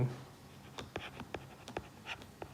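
Chalk or marker tapping and scraping on a classroom board as a teacher writes, a quick irregular run of short strokes, faint and near, with no talking.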